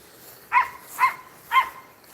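A dog gives three short barks, evenly spaced about half a second apart, clear and moderately close over a quiet outdoor yard.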